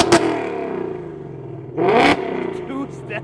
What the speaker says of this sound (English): Oh, this exhaust sounds really, really loud.